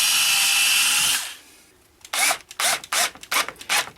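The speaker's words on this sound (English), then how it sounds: "it's probably safer just to do a pilot hole first." A cordless drill runs in repeated short bursts while boring a pilot hole into wood for a framework, close and loud, after an earlier stretch of steady whirring.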